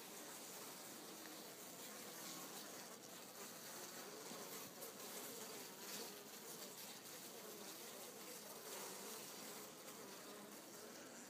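Honeybees buzzing inside a hive about half an hour after a 10% iodine tincture treatment against nosema, a dense, faint, continuous hum of many bees, slightly agitated, with no speech.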